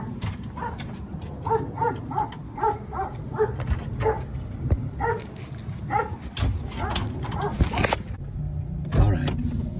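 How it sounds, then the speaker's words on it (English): A German Shepherd barks in a run of repeated, evenly spaced barks, fairly close, over background rumble and scattered knocks, with a few more barks mixed into the noise afterward. "He's a very, very happy, ferocious dog that loves to lick, and probably his bark is louder than his bite."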